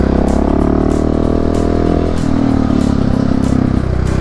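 A KTM SMC690 single-cylinder motorcycle engine runs loud and close, holding a steady drone that shifts pitch partway through with a change in revs, alone without voices.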